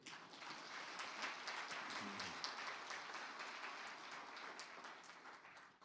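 Ceremony audience applauding in a hall at a Korean information industry federation 40th anniversary event, a dense, steady wash of many hands clapping that holds for about six seconds without fading.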